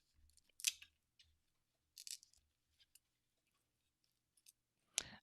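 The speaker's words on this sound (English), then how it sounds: "See if we can cut it with these old scissors." Old scissors cut through a small wedge of styrofoam in a quiet room, giving a few faint, sparse crisp snips and squeaky crunches, close and soft with pauses between.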